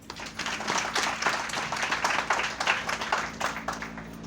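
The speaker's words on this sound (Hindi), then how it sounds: "एक बार ताली बजाइए।" A small audience claps together at a Hindi talk about cooking oils, a steady patter of many hands that is moderately loud and lasts the whole stretch before fading slightly near the end.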